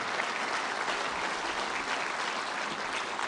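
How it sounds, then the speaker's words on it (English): Steady applause from an audience at a Ukraine reconstruction conference in Rome, a dense even wash of clapping lasting a few seconds without pause and without talk over it. "Applause for Prime Minister Meloni."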